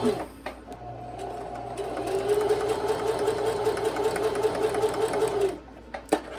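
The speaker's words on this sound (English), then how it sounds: "pivot my fabric to finish the rest of my dart" Sewing machine stitching a fisheye dart in fabric, a close, steady mechanical whir running for several seconds before stopping, with a few clicks at either end and a voice speaking over it.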